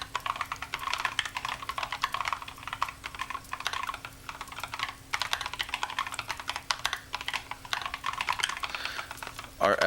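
Quick, continuous typing of code on a computer keyboard, close and crisp, with rapid irregular clatter of keystrokes over a low steady hum and no talking.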